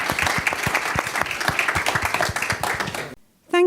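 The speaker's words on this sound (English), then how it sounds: "just a round of applause and thank you for our first session today" A conference audience at a summit gives a round of applause, many hands clapping in a dense, lively patter at close range. It cuts off sharply near the end, followed by a short musical chime.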